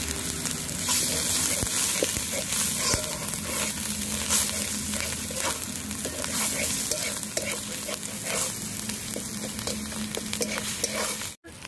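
Spices fry in hot oil for chicken korma, a dense, steady sizzle with stirring scrapes and crackles throughout, fairly close and loud, ending with a sudden short break.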